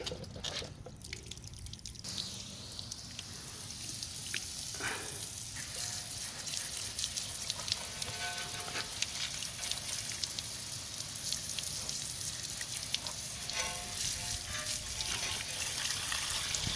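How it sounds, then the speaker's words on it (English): A garden hose rinses down a car wheel after an iron-removing wheel cleaner, giving a steady, close spray hiss with splashing that runs unbroken throughout. "Let's get the hose, and let's rinse this down."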